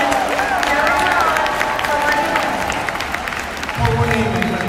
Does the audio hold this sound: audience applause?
yes